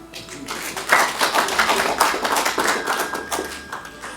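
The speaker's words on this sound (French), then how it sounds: "Ça s'acclame." A conference audience applauds and acclaims a speaker, a dense run of clapping hands with a louder swell near the start that holds steady and fairly close before easing slightly toward the end.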